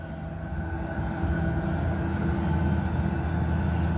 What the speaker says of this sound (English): diesel heater just fired up.